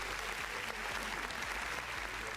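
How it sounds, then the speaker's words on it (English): Steady, dense applause from a workshop audience following an animation screening, continuous clapping at an even level with no talk over it. "Let us give some reactions and applause to the video"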